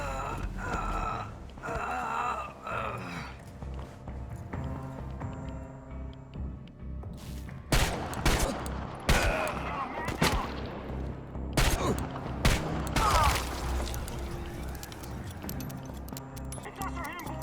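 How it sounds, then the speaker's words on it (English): Gunfire in the post-apocalyptic shooter Chernobylite, with sharp shots and bursts coming irregularly and growing denser in the second half, and a voice shouting orders over the fighting. "Shoot to kill! Get behind cover and shoot!"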